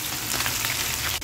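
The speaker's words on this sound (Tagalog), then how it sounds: "Ingat-ingat lang pag nagpiprito kasi talagang titilamsik ang mantika ko." Chicken and pork for adobo fry in hot oil, giving a steady loud sizzle with crackling spatter and no voices.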